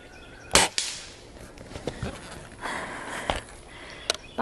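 A Springfield Armory M1A under-lever .22 pellet rifle fires Baracuda 15 pellets, one sharp crack standing out among several fainter snaps and clicks, close by with no talking.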